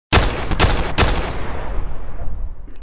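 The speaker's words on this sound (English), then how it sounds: "We hear gunfire." A quick burst of gunfire during a training exercise in a building, several sharp shots close together that ring out into a long, fading reverberant tail.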